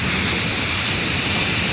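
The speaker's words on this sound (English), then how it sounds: "Mike Evergenes, he's been racing jet cars for 20 years." A jet-powered drag racing car built on a 1993 Camaro body roars steadily at a drag strip, a loud, continuous broadband jet-engine rush with no breaks and no talking.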